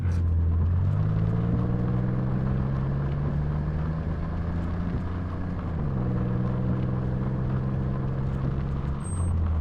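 Car driving in the video game Silent Hill: Shattered Memories: steady engine hum with gradual gear-like pitch rises and a shift midway, close and continuous with no talk.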